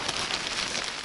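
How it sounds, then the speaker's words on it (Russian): Heavy rain pours down in a forest during mushroom picking in June, making a dense, steady hiss that fills the whole moment with no voices. "Вот такой дождяра валит."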